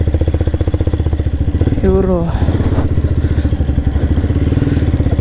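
A motorcycle chugs along a rough off-road trail near Dharmapuri, its engine thumping in a steady close rhythm with clattering knocks over bumps, while a person speaks briefly over it.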